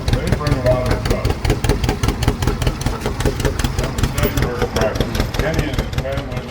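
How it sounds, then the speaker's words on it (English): A Hart-Parr 30 vintage tractor engine runs steadily in a summer show parade, its loud, rhythmic low chugging continuous throughout, with a busy outdoor background. "There's a tractor that Paul and his family run."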